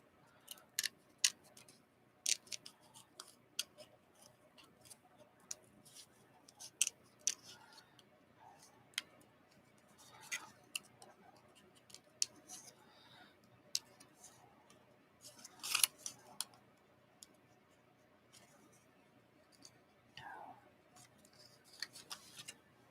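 Scissors fussy cutting paper bingo cards, giving repeated short snips and clicks at irregular intervals, close and fairly quiet, with no talking.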